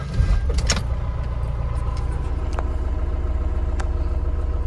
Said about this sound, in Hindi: तो स्टार्ट करते हैं गाड़ी को।